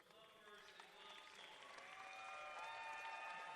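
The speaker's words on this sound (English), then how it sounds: "Well-deserved round of applause for both teams." Spectators applauding both teams at a 2023 Conference Carolinas acrobatics and tumbling semi-final between Limestone and Converse, crowd clapping that swells gradually under a nearby announcer's voice and overlapping chatter in a large venue.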